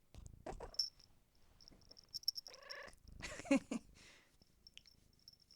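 A cat gives a few soft meows and a low purr, close by, with quiet rustling and brief high tones in between.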